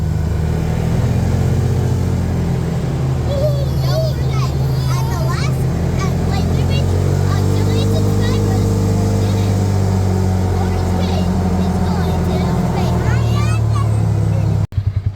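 A fire-damaged, repaired Polaris Ranger 570 UTV drives down a road, its engine a steady low drone with slight rises as it moves, while a voice talks over it.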